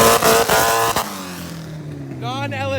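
A lightweight, stripped DA Integra with no windshield revs loudly near the listener, a harsh burst of engine noise that drops off after about a second and then trails away, with voices talking over it.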